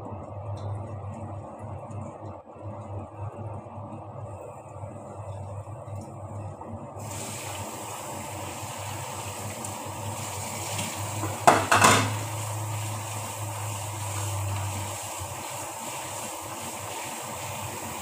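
Grated vegetable is rinsed under a running tap for an Arabic soup; after a quiet start, a steady hiss of flowing water begins, close by, with a brief clattering splash partway through and no voices.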